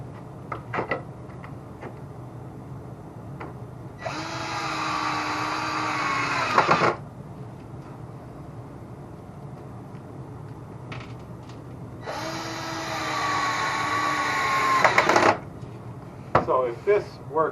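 A power drill driving screws into wood framing around a basement window, two whirring bursts of about three seconds each separated by a pause, with people talking quietly and handling noises in between.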